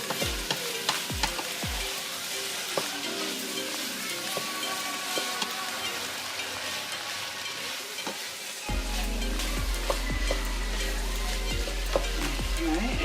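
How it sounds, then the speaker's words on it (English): A sweet chilli sauce mixture with garlic, ginger and capsicum simmering and sizzling in a pan while being stirred, steady crackle with frequent spatula taps and scrapes, a low hum joining partway through. "just give that a good stir in."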